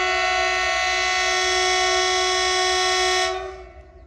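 A long, heavy oil tanker freight train sounds a loud, steady horn for about three seconds, then it cuts off and fades into a low rumble.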